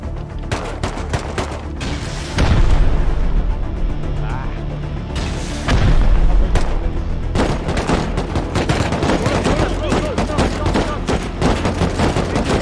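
Rocket blasts and gunfire crash through a raid in the video game Rust: dense, loud rapid shooting with heavy booms near 2.5 and 5.5 seconds, sustained throughout, with voices talking underneath.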